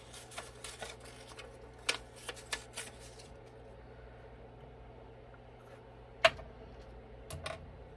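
A toilet paper roll is torn by hand for a paper booklet craft, heard as close, quiet crinkles, dry rustles and light taps, with one sharper ripping snap near the end.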